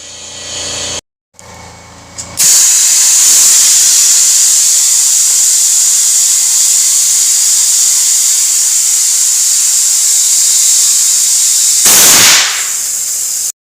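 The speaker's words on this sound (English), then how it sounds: "We're going to fill it up and give her a blast of air." Cheetah-style bead seater blasting compressed air into an RV tire from underneath the vehicle, a loud steady roaring hiss that runs continuously after a few short bursts, with a brief louder surge near the end.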